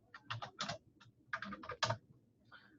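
Computer keyboard typing in a tutoring session, quick bursts of keystrokes in several clusters with short pauses, close and fairly quiet, no talking.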